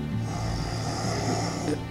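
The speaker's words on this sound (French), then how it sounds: "Notre proie est endormi, mon commissaire. Il ronfle comme une bête." A man snores steadily while asleep, one long rasping snore filling the short stretch at close range with no talk over it.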